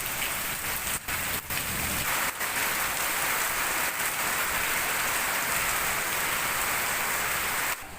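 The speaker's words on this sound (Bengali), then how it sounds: "ঝড়ের জন্যই এত জোর বৃষ্টি নেমেছে।" Heavy storm rain pours down steadily in a dense, loud hiss with no pauses, broken only by a few faint knocks.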